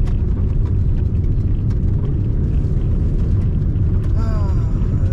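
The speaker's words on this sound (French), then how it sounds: "là, bon, on entend les graviers" A Peugeot 206 rolls over gravel, producing a loud, continuous crunching rumble that runs the whole time, with people talking over it.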